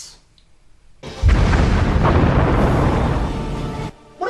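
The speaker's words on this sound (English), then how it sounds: "What exactly do these random explosions have to do with anything?" A film explosion from The Terminators erupts after a quiet moment: one loud, deep boom that rumbles on for nearly three seconds before cutting off, with no talk over it.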